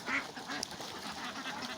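Ducks quacking on a duck farm, a few nasal quacks over a dense, steady noisy background, moderately close but not loud.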